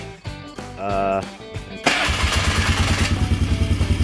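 A rebuilt 2000 Polaris Magnum 325 ATV engine starts after a short cranking and tonal whine, then settles into a loud, steady, rhythmic idle close by, with no talk over it.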